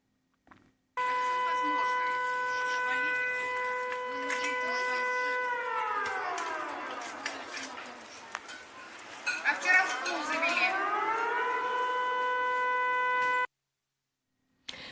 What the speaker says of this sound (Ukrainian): В місті лунає сирена повітряної тривоги.